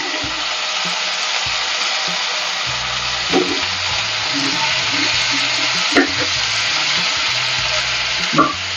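Brinjal and potato pieces sauté in a pan of hot oil, giving a steady broadband sizzle with a few soft stirring knocks and a faint low hum underneath, moderately close and with no talking.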